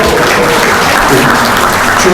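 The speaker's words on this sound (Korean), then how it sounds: "모두에게 다시 한번 뜨거운 박수를 부탁드립니다" An audience at a forum in the National Assembly Members' Office Building applauds loudly, a continuous, dense clapping crowd with faint voices mixed in.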